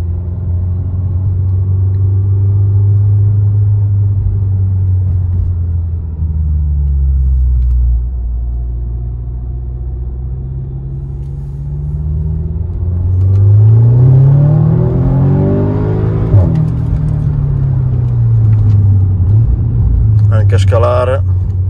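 An Audi S3 8V accelerates hard, its engine rumble climbing in pitch and dropping at each quick gear change, loud and close inside the car, with someone talking over it.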